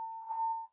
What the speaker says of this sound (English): That's the alarm in my building.